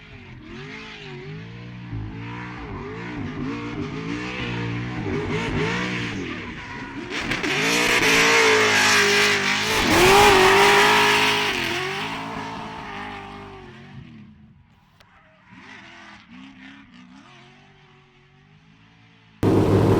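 A loud NASCAR V8 engine in a Nissan Silvia race car revs and shifts repeatedly, roaring up and down through the gears, swelling to a peak before easing off.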